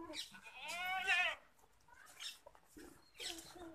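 Barbari goat kids bleating close by, a long wavering harmonic cry followed by shorter bleats in a farm setting.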